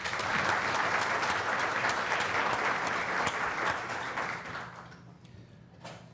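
An audience bursts into steady, dense applause welcoming a panel of judges at a legal program, sustained for several seconds before tapering off and dying away near the end.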